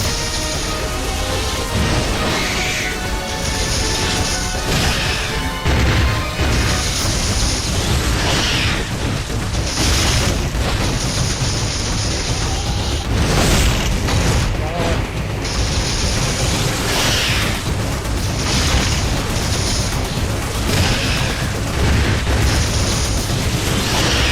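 Missiles fired in Metroid: Samus Returns burst in repeated loud booms within dense, busy game audio, while a person talks throughout.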